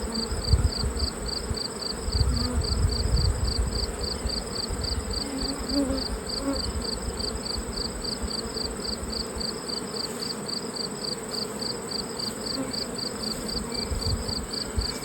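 Honeybees crowd hive frames during a honey flow, producing a constant close buzzing hum, with a steady high insect-like chirping pulse running beneath and no speech.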